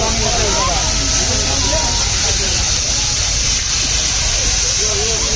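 Hilsa fish frying in mustard oil at a riverside eatery in Mawa: a loud, steady hiss and bubbling sizzle fills the clip while voices talk over it.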